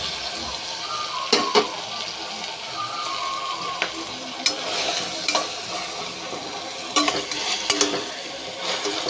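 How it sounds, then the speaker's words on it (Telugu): Onions fry in a pan on a gas stove with a constant low sizzle, broken by occasional sharp clinks and scrapes of a spoon stirring against the metal pan, close by and without speech. "అవి ఇలా గ్యాస్ మీద పెట్టి ఫ్రై చేస్తున్నాను"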